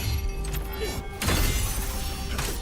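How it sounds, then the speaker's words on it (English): A shield shatters with a sharp breaking-glass crack partway through combat in Khazan, preceded by softer hits and followed by a crunchy burst of debris. "that has like a breaking glass effect sound"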